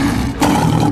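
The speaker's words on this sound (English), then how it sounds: "This is the lion, the true king of cats." A lion gives a loud, deep, sustained roar, close and powerful, with no other sounds competing.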